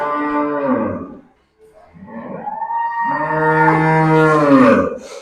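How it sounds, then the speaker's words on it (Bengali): Cattle at a farm give long, loud moos, close by: one call, a short pause, then a longer drawn-out low moo that rises and swells before fading. "এই যে আমাদের গরুগুলো, এই যে আমাদের নাজমা"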